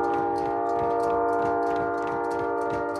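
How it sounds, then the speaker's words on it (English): A train passes in the Call of Duty: Modern Warfare video game, a loud steady droning horn-like tone held over rapid rhythmic clacking of wheels on track, continuous for the full three seconds. "Loud ass train"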